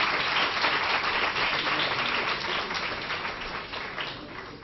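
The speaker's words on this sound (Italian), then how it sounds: "che merita applausi" An audience applauds Professor Enrico Berti at an Italian academic lecture on classical and analytic metaphysics, a dense, steady clapping that holds loud and gradually tapers toward the end.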